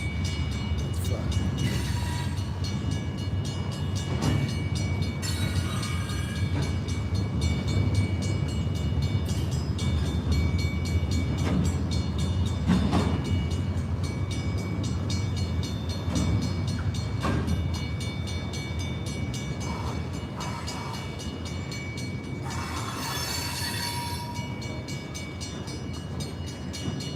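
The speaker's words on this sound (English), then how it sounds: "It's a long train." A long train passes close by, rumbling and rattling steadily for the whole stretch, with clicking wheels on the rails and a brief squeal near the end.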